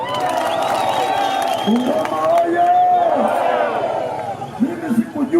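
A rally crowd in Kimilili, Kenya, bursts into clapping and cheering, a dense roar of applause and shouts that swells through the middle and carries on beneath the noise.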